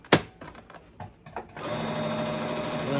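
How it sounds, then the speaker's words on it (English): After a few handling clicks and thumps, a sewing machine starts stitching a crash bag, running in a fast, steady mechanical chatter close by until the end. "Last stitching on this part."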